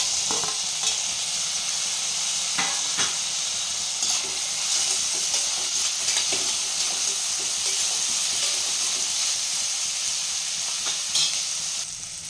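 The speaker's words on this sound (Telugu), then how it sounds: "ఇప్పుడు టమాటా ముక్కలను కూడా వేసుకొని వేయించుకుందాం" Tomato pieces with green chillies fry steadily in hot oil for goat head curry, a dense continuous sizzle with occasional stirring clinks, close and even throughout with no speech.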